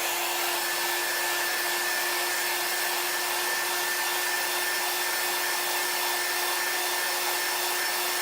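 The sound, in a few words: hair dryer drying a chalk craft project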